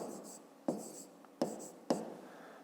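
Pen scratching on paper while a fifth-grade geometry equation is written out, three distinct strokes, each starting with a crisp tap and trailing into a soft scrape, close up with no voices.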